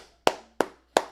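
Three sharp hand claps, evenly spaced and close, each ringing briefly before silence.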